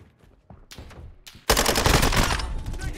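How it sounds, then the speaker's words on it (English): First-person shooter team deathmatch gunfire: a few scattered shots, then a sudden loud sustained burst of automatic fire that continues to the end. "Taking effective fire!"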